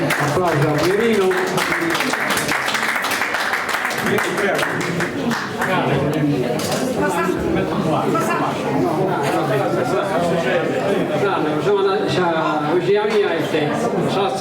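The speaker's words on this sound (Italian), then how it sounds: "Applauso a Pierino." An audience applauds a performer at an Italian gathering, with clapping mixed into loud crowd chatter and voices that continue over the whole stretch.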